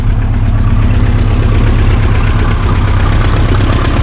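A 1980 IZh Kombi motorcycle engine idles with no load, a loud, close, continuous rumbling throb holding steady from start to finish.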